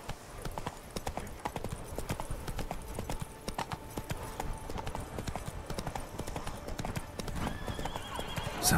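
Hooves clip-clop at a steady gallop with occasional horse whinnies, a mounted rider's horse in a video game, continuous and fairly close throughout.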